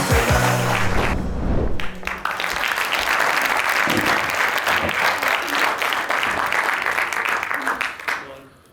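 A studio audience applauds at the opening of a comedy sketch show, with dense, loud, sustained clapping for about eight seconds that fades at the end. A voice is heard briefly near the start.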